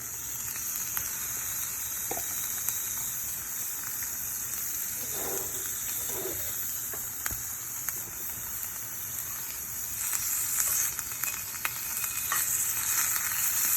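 Morel mushrooms sauté in oil in a hot pan, giving a steady, close sizzle that runs throughout, with a few soft stirring scrapes and small pops along the way.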